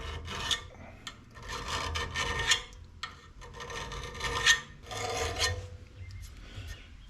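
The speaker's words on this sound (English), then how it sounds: "so we got the blade all sharpened up" A metal file rasps steadily across a weathered Craftsman lawn mower blade to sharpen it, close and fairly loud, in four long rhythmic strokes with brief pauses between them.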